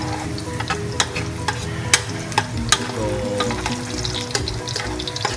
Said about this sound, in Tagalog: So, kailangan pababrownin lang natin yung bawang, no?